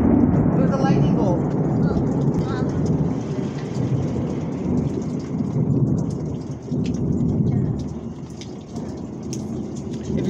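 Thunder rumbles through steady heavy rain during a lightning storm in Corpus Christi, Texas, a continuous loud wash of rainfall with deep rolling thunder swelling and fading across the whole stretch.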